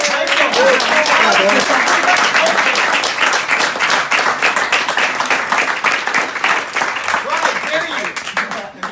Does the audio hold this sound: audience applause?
yes